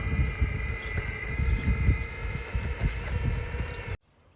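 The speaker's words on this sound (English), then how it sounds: "So this is the skateboard on eco mode. It's very slow." Electric skateboard riding slowly in eco mode outdoors, a continuous low rumble of wheels on pavement with steady motor whine and wind buffeting, cutting off abruptly near the end.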